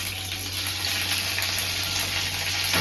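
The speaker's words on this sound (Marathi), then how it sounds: "आता मी ही जी उरलेली मच्छी आहे ही मस्तपैकी फ्राय करते" Leftover marinated fish pieces fry in a pan with a steady, broad sizzle that holds evenly throughout, close and moderately loud with no talk.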